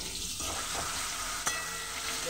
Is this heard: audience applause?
no